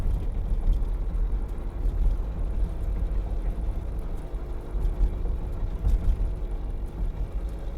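From inside a car on the STAR expressway in Batangas, a continuous low road rumble carries irregular dull thumps as the tires roll over expressway joints, several spaced bumps over steady engine and tire drone.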